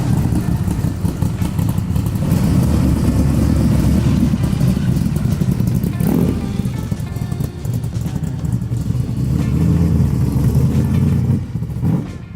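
A 2020 Superformance Cobra R's engine rumbles loudly and continuously up close, a deep throbbing growl that swells as the car pulls away, then eases and rises again near the end.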